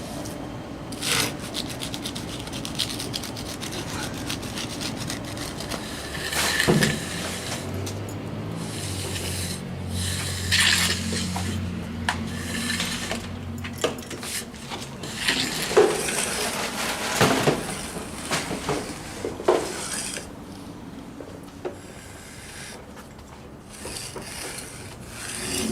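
A concrete slab surface being roughed up by hand, a long stretch of steady rasping and rubbing strokes with irregular scrapes and a few sharper knocks, close and continuous throughout.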